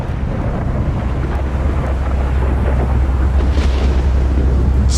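Emission storm in S.T.A.L.K.E.R. Gamma, heard from indoors behind brick walls: a loud, continuous low rumble with wind-like roar that swells slightly toward the end, no distinct individual blasts.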